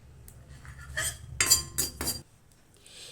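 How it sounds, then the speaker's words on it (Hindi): A metal kadhai set down on a stove, giving a few close, sharp metallic clinks and clanks in quick succession before falling quiet. "एक मैं कढ़ाई रख दिया हूँ"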